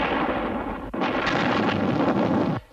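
A loud burst of sustained gunfire erupts as a sound effect in the UFO TV series, a harsh, continuous rattle lasting under two seconds before cutting off.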